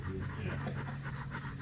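A dog pants quickly and steadily at a yard sale, close by, with rapid rhythmic breaths and no talk.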